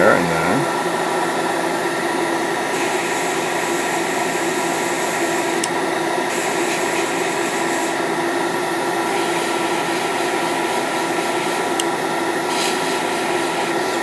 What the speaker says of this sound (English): just give it a little blast of air to dry it out and to even it out a bit.